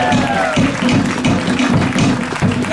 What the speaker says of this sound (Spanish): give it up for my dad, Mr. Vito Vainuku.